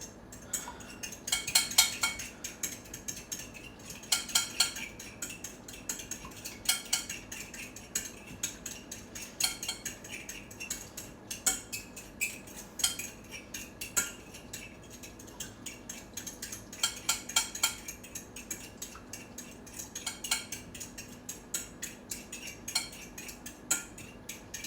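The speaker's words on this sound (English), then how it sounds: "Whisk those eggs very good, really well." Eggs whisked with a fork in a bowl for a chicken and bacon omelette, a steady run of quick light metallic clinks and scrapes close by, continuing without talk.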